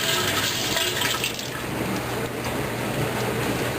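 Root beer extract pours steadily into a keg, a continuous close splashing gush of liquid lasting a few seconds with no talking.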